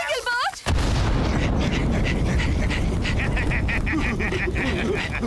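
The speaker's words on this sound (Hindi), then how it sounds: "हमने एक बहुत बड़ा धमाका सुना।" A big explosion in The Jungle Bunch cartoon erupts suddenly after a brief moment of high-pitched chatter, then roars on as a loud, sustained rumbling blast with crackling debris for several seconds.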